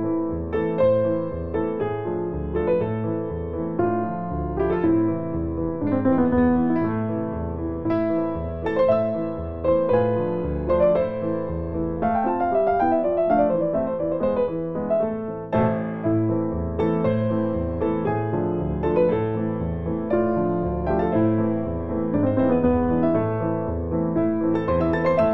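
Solo piano plays an advanced arrangement of Brahms' Hungarian Dance, with dense chords and a lively, continuous melody filling the clip, loud and close without any talking.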